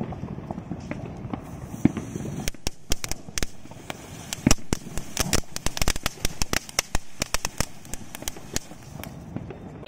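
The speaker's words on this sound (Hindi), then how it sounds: "वाले अनार को जला के देखते हैं ग्रीन वाले अनार कैसी चलती है।" A green anar fountain firecracker burns with dense, rapid crackling and sharp popping bursts, loud and close over a steady hissing spray, with faint voices in the background.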